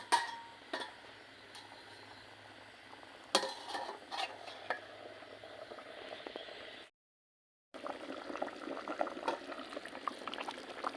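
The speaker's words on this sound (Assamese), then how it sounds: "এইখিনি এতিয়া ভালদৰে উতলিবলৈ দিম" Khichdi with hot water added bubbles in a covered pot, a continuous soft boiling burble with a few sharper knocks. It drops out briefly near the end before resuming.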